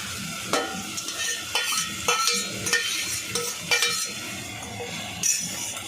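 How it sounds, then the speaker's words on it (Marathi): Chopped tomatoes frying in oil with turmeric and spice masala, a close, continuous sizzle punctuated by repeated sharp clinks and scrapes of a spoon stirring against the pan. "चांगला फ्राय करून घेऊया टमाटे"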